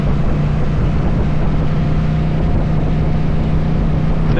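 Yamaha V Star 1300 motorcycle engine while riding, a loud, steady low drone with a constant hum and heavy wind rush across the microphone throughout.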